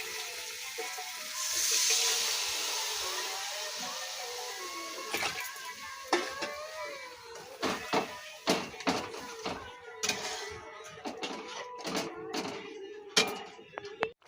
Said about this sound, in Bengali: হয়ে গেছে, জল ঢেলে দিই।